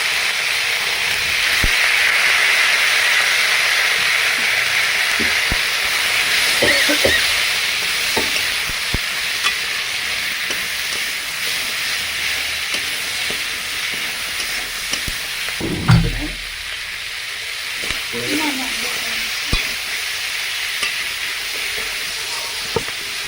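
Vegetables stir-frying in a pan with a splash of vinegar for chilli chicken, a loud continuous hissing sizzle with steam, punctuated by scattered utensil taps and a heavier scrape and clunk partway through, no speech.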